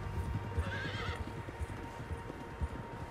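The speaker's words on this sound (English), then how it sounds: "Horses, quite a few of them." Several horses in Red Dead Redemption II clop their hooves in an uneven rhythm, and one lets out a clear whinny partway through, all fairly quiet and with no talking.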